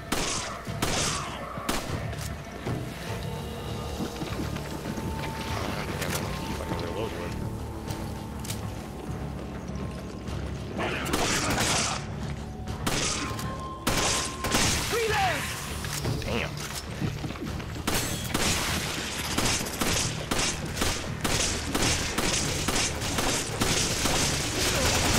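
Gunfire in Resident Evil 5, a series of sharp shots and bursts scattered across the clip, steady and fairly loud, mixed with other game sounds and voices talking.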